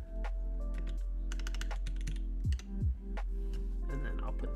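Typing on a prototype mechanical keyboard, close and crisp clacky keystrokes in quick irregular bursts over a constant low electrical hum, with a couple of deeper thocks in the middle.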